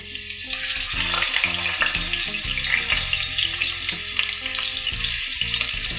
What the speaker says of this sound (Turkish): Köftelerimi sırayla yerleştiriyorum.